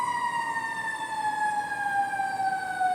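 A fire truck siren wails steadily in a long, slowly falling tone, loud and continuous over faint background noise.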